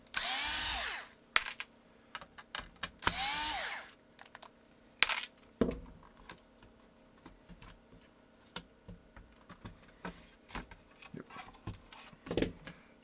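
A power screwdriver whirs in short bursts as screws come out of a keyboard case during a swap from a CM Novatouch into a Norbauer aluminium case, with a few longer runs early and clicks and small metal handling noises between.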